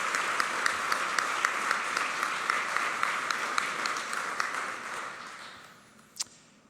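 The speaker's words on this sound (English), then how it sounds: "Let's give ourselves a round of applause." Gala attendees applaud themselves in a community event hall, a full round of clapping with a few sharper individual claps standing out, fading away near the end, followed by a single sharp knock.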